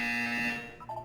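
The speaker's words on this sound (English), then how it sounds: "When you hear the buzzer, look down at the floor." A loud, steady electronic buzzer from the video game Portal 2 sounds close and alone for about half a second, then fades into softer tonal game sounds.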